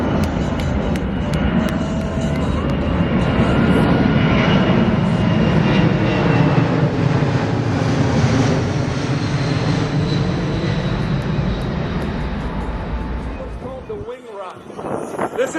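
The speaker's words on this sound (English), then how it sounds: "here's our C-17 Globemaster from Stewart Air Base" A C-17 Globemaster military transport jet from Stewart Air Base flies overhead at an air show, its broad engine roar swelling loud and steady before fading, with a voice talking over the noise.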